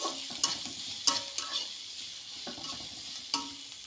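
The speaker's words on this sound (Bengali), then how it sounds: "কিছুক্ষণ ভেজে নিচ্ছি।" Chopped onions and other ingredients fry in a pan while being stirred, a soft sizzle broken by sharp scrapes and clinks of the spatula against the pan, close by with no talking.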